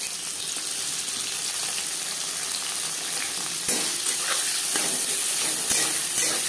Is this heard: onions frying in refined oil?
yes